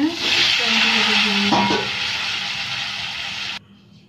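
Prawns frying in hot oil, a steady loud sizzle with a brief stir or clatter midway, dropping off sharply near the end as the pan goes quiet.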